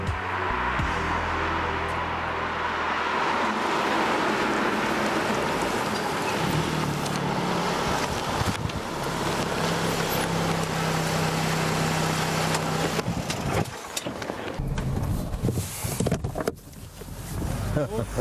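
Jaguar F-Type S sports car driving, a steady engine drone and road roar heard from inside the cabin, with occasional shifts in tone and brief bumps, continuous and moderately loud.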